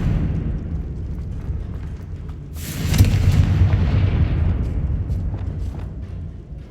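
A Confringo fire spell detonates in Hogwarts Legacy, a loud booming blast at about three seconds that rolls into a long rumbling decay over a low steady game backdrop.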